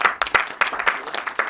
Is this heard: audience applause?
yes